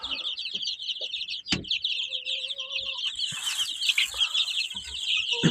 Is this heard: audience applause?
no